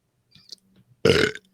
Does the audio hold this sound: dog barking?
no